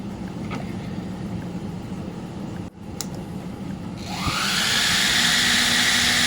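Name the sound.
small fan with motor running in a Peltier cooler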